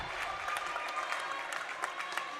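A crowd applauds in a gymnasium after a long rally at a university volleyball match, a faint, distant patter of clapping lasting a couple of seconds.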